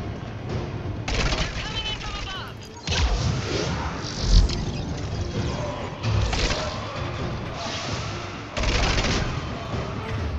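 Dense bursts of gunfire from a gun in the video game Mass Effect 3, several loud rattling volleys with thuds between them, alongside a voice talking over the action.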